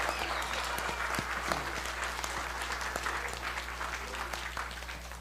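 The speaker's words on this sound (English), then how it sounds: "Can we have one more round of applause for Mr." Sustained crowd applause for LeVar Burton at a Richman Elementary school event, dense steady clapping that fills the room from start to finish without breaks.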